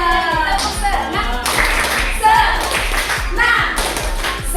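A group of people claps the rhythmic 'tepuk senang' pattern, sharp hand claps landing in a steady beat close by while voices chant along over them throughout.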